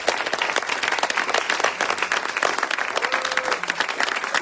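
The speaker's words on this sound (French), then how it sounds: "si on peut acclamer pour Marie-Laure" An audience at a church inauguration bursts into sustained, dense applause for Marie-Laure, many hands clapping steadily and loudly without pause, with a brief tonal squeak briefly rising through the clatter.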